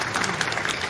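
Residents at a Korean apartment reconstruction briefing give a council member a big round of applause, a brief, steady burst of many hands clapping fairly loudly in a hall.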